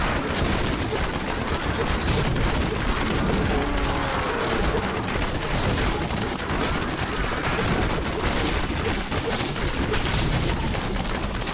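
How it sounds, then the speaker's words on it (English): Dense, continuous bursts of combat explosions and rapid gunfire-like blasts from a Diablo 3 Demon Hunter fight rumble loudly and without pause. "That one explosion didn't take me down."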